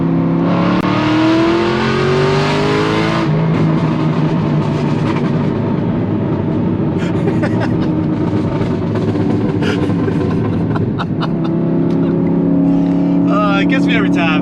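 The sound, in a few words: car accelerating with tuned X-pipe exhaust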